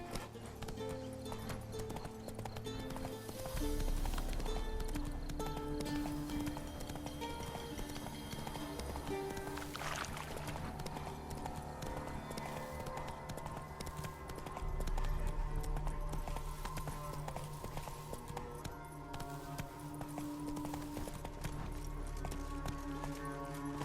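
Hoofbeats of Roach, a horse in The Witcher 3: Wild Hunt, pound at a steady gallop under game music and ambience, with occasional clattering and a faint whinny, continuous and moderately loud.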